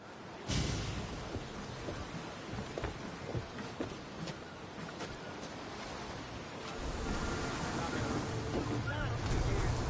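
Wooden sailing warship from Assassin's Creed Odyssey gliding across the open Aegean sea, with steady wash of waves against the hull and wind rushing past, swelling louder toward the end; a voice speaks briefly over it.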